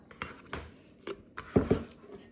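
A dough scraper works whole grain and seed sourdough out onto a clean countertop, giving a few scattered scraping and tapping knocks with a couple of sharper clinks near the middle.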